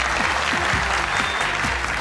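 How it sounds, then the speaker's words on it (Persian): A studio audience at a Family Feud-style game show applauds steadily throughout, a dense, even wash of clapping with no voices. "دوستا تشویق کنه."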